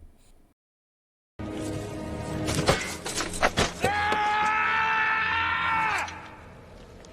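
Aragorn in a Lord of the Rings film kicks a helmet and breaks two toes, then lets out a loud, sustained man's scream of rage after a few sharp thuds.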